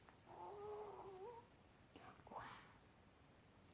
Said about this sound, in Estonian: See on kaast, kes ütleb näu.